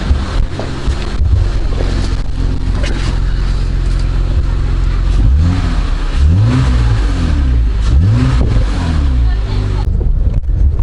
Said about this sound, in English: So I'm going to test drive it right now to see exactly what's going on